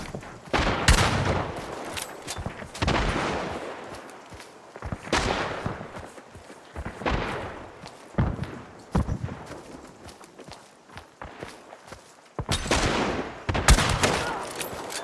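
Gunfire in the video game Hunt: bursts of loud, sharp shots and short volleys come in clusters of several cracks, separated by quieter gaps.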